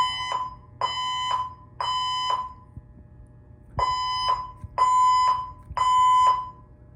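A condo fire alarm sounds in loud repeating bursts of three harsh buzzing tones, a pause, then three more, with faint thuds in the background.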